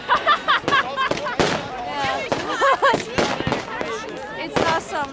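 New Year's Eve fireworks over Vienna crack and boom again and again in loud, close bursts, mixed with excited voices and cheering from the crowd.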